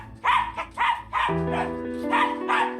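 An aggressive dog barks about five times in an uneven rhythm, loud and close, with a sustained whine or hum underneath between barks.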